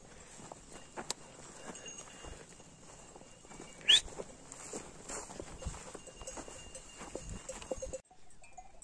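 A flock of sheep moves along with a shepherd outdoors, faint shuffling hooves and soft footsteps with occasional bell clinks and brief sharper knocks, fairly distant and quiet throughout.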